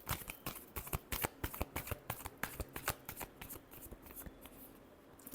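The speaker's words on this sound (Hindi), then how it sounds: "5 कार्ड दे, लास्ट शफल।" Tarot cards shuffled by hand for an Aries horoscope reading, a steady run of crisp riffling flutters and soft slaps, close and fairly quiet, with no talking.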